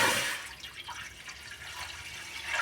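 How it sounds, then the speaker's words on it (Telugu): Measured water poured from a vessel into a cooking pot, a steady close splashing stream that runs for a couple of seconds, louder at the start and softening toward the end. "నేను ఇవో కొలత ప్రకారం తీసుకున్న నీళ్ళు అయితే పోసుకుంటున్నాను."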